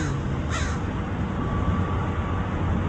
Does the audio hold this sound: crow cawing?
yes